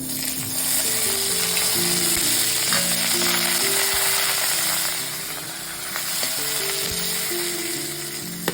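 Curry leaves crackle and sizzle in hot oil for a jackfruit poriyal, a steady close frying hiss with faint clicks and stirring.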